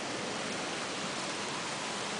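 Heavy rain pours during a thunderstorm in Singapore, a dense, even hiss of water with no pauses, heard faintly and without voices.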